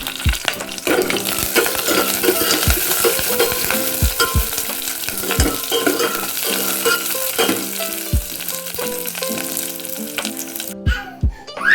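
Mustard seeds, curry leaves and crushed garlic sizzle loudly in hot oil for a home tempering, a close and steady frying hiss broken by regular sharp spoon clicks from stirring throughout, with no talking.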